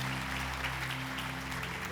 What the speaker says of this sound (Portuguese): Dê uma salva de palmas para isso.